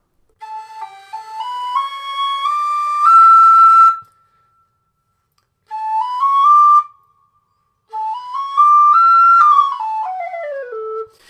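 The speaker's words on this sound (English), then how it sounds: "for the second octave, you're just going to put a little bit more air through the whistle" A Carbony Highland tin whistle plays high second-octave notes in three phrases, stepping upward and finishing with a descending slide, clear and loud with silent gaps between.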